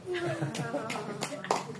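A small audience claps briefly at a show, with scattered claps in short bursts under someone talking throughout.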